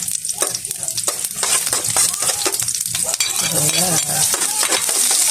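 Garlic fries with a bright, steady sizzle as a utensil scrapes and stirs it around a pan while cooking adobo of pork liver and chicken gizzard, loud and close, with a brief spoken word.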